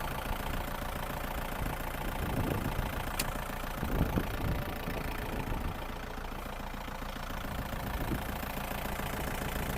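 The engine of a used Kubota tractor, an L3608DT or L4708DT, runs at a steady idle for about ten seconds with a constant knocking chug and a few louder thumps, close by and without talk.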